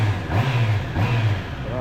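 A car engine cold-starting through its stock exhaust pipe, a low steady rumble with small revving swells, close by, with talk over it.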